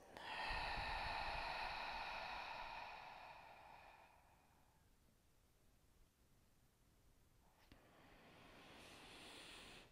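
Close, airy breaths are drawn in during a Pilates exercise: one long inhalation fades out after a few seconds, and another soft breath begins near the end, with quiet in between.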